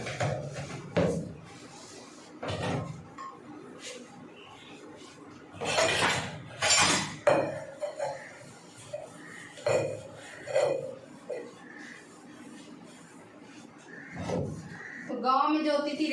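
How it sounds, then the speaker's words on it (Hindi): Breakfast dishes, pots and utensils being washed in a home kitchen produce intermittent clinks, clatters and knocks of metal and crockery, some sharp and close, with a person talking at times. "तो जल्दी से पहले ना बर्तन साफ कर लेते हैं।"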